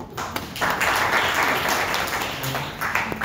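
A conference crowd breaks into loud applause for themselves, a thick burst of many hands clapping that builds quickly after a brief quiet start and holds steady.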